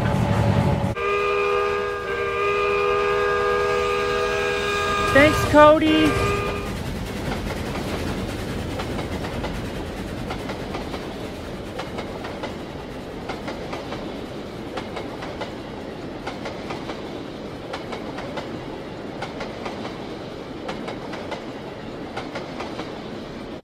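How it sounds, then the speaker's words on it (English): A model railroad train on the Clinchfield highland valley line sounds a sustained whistle, then departs with steady clickety-clack on the rails that continues at an even rhythm, a brief spoken line at the start. "The train's all ready to go"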